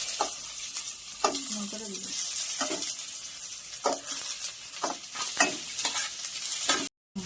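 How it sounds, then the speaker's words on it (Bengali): Chopped onion frying in oil with spices, a continuous close sizzle broken by repeated spatula stirs and scrapes against the pan, no talking. "এবার পেঁয়াজ কুচি দিয়ে দিচ্ছি"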